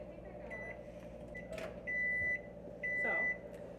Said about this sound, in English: We're going to close the microwave. We're going to put it on for 15-second intervals.